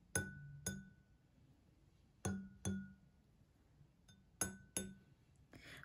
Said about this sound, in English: I'm gonna use two fingers now to make an even harder tap.